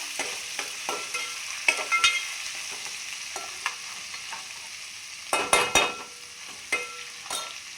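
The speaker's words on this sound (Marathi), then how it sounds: "ते थोडासा तेलावरती मारायचा." Crushed ginger and garlic frying in oil for chicken, a soft continuous sizzle broken by a spatula's scrapes and taps against the pan, a quick cluster of knocks near the end.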